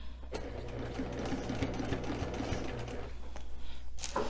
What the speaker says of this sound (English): we're going to start in our center, and we're going to sew all the way down.